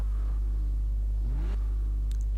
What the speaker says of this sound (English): a pretty mean Porsche 911 engine, or sound I should say